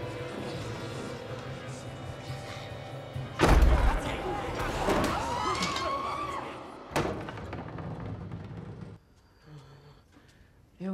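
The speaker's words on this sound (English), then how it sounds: "There was something banging on that door to get out." Loud thuds and bangs on a door from a TV drama scene, a heavy impact cluster followed by a sustained rumbling commotion and another knock, with background sound continuing.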